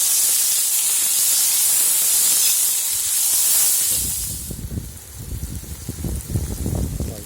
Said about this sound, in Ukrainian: додали баранинку до цибульки і все обсмажуємо